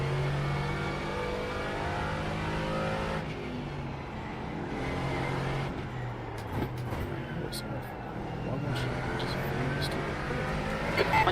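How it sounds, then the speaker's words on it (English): GT4 race car engines in the iRacing game at Imola drone loudly and continuously, their pitch rising and falling as they rev, with a voice talking over them. "Logan, there's a faster class car approaching"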